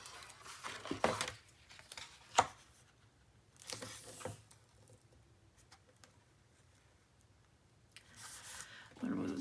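Tape for a 9 x 8 craft mini album being pulled off the roll and torn, with a few sharp ripping bursts spread across a quiet room and low handling noise between them.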